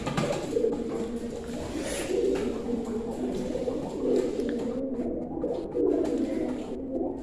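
A pigeon coos repeatedly in short, throaty, rolling phrases while being handled at close range, with soft rustling between calls and no speech.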